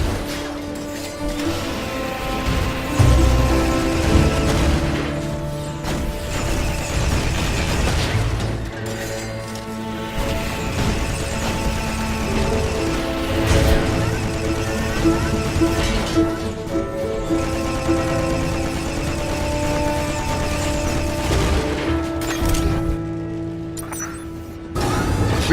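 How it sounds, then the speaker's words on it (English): Missile turrets firing in the sci-fi twin-stick shooter RiftStar Raiders, a dense run of booms and mechanical impacts layered over a continuous game soundtrack, with no voices. "Engaging more missile turrets."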